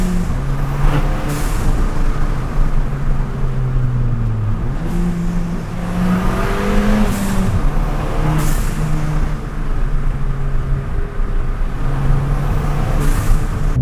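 A Ford Fiesta ST with its exhaust backbox deleted, driven on twisty roads, giving a loud, constant engine drone with pitch rising and falling through gear changes and occasional overrun burbles.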